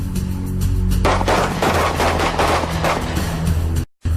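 SWAT team police officers fire their weapons in a loud, dense volley of overlapping gunshots and rapid bursts for about three seconds, ending abruptly in silence.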